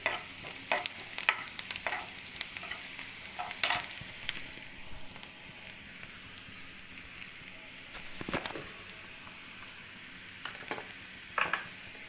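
Okra and other ingredients fry in a pan, giving a soft, steady sizzle with occasional sharper crackles and stirring clatters, fairly quiet and close, with no voice over it.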